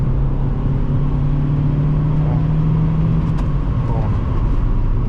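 A 2006 Toyota Matrix XR pulls hard on a test drive, with a steady loud engine drone and road noise heard from inside the cabin, no talk over it.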